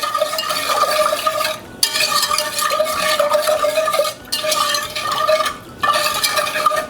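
A whisk beats cream and sugar in a pot warming on the stove for a lemon dessert, a loud, steady, rapid swishing in long bursts broken by three brief pauses.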